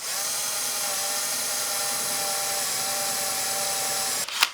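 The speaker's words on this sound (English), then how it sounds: "Before I drill the 3/8 hole, I'm going to drill a 1/8 inch hole" Power drill boring a 1/8 inch pilot hole for a floating shelf: a steady, high, whirring motor whine held for several seconds, close and loud, with a short burst of noise as it stops.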